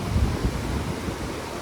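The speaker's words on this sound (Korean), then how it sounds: "폭포에서 물이 이렇게" Steady rushing water roars continuously from a nearby waterfall in a Taiwanese mountain hot-spring village, a broad low rumble, with some wind buffeting the microphone.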